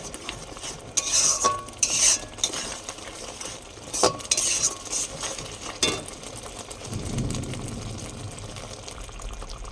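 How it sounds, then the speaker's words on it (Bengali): Spice masala frying and being stirred in a pan for a fish curry, with intermittent clinks and scrapes of a utensil against the pan over a low sizzle that thickens toward the end. "এবার এটা কষা কষা হোক"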